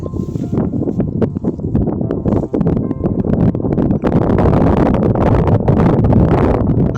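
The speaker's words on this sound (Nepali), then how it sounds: "हावा नि मस्त चलिरहेछ।" Gusty wind buffets close to the microphone at a tent campsite on the Pancha Pokhari trek, in loud, uneven blasts and rumbles, with occasional brief knocks and rustles; no talking.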